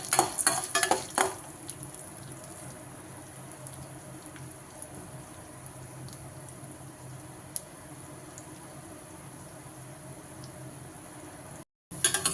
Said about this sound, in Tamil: பருப்பை வறுத்துக்கலாம்